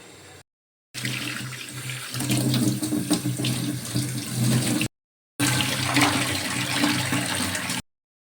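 A kitchen tap runs hard into a sink while headless prawns are washed, a steady close splashing rush broken by two brief pauses.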